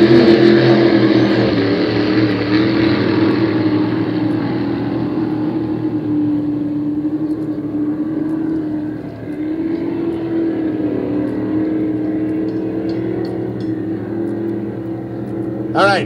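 Compjet racing boats roar past on the final lap of a regatta, their engines a loud, continuous droning whine with slowly shifting pitch, while an announcer talks over the sound.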